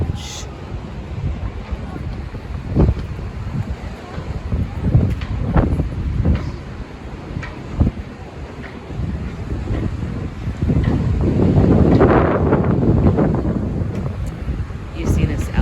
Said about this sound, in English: Windy day in Pismo Beach.